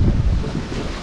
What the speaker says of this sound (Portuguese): Tá ventando demais aqui, Thiago.